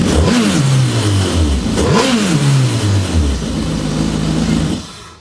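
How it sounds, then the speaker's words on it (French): Jet ski engine revved in two or three sharp bursts to blow cooling water out of the system after the hose is disconnected, each rev rising then falling back to a steady idle before cutting out, loud and close. "toujours donner 2 ou 3 coups de gaz pour évacuer l'eau qu'il y a dans le système de refroidissement"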